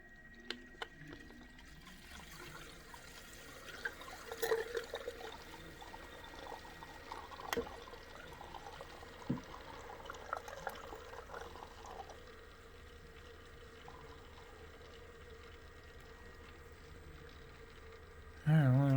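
Coolant is poured to fill a PC water-cooling loop, heard as a faint, close trickle and splash of liquid with a few small clinks and handling noises, ending in a brief louder burst.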